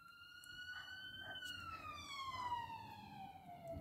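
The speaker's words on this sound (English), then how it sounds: "Why is there so many sirens?" A wailing police siren sweeps downward in a long glide, heard at a distance and fairly faint over low background hum.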